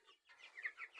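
Broiler chickens cluck faintly on a farm in a short burst of soft, close calls.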